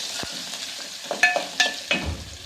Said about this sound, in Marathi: हिंग टाकायचं, हिंग थोडं परतायचं,